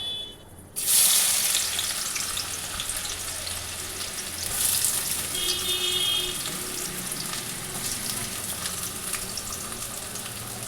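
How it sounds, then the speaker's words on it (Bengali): Onion dropped into hot oil for biryani, bursting into a loud, close sizzle that settles into a steady frying hiss, with faint stirring and no talking. "এবার এর মধ্যে বন্ধুরা আমি পেঁয়াজটা দিয়ে দিচ্ছি।"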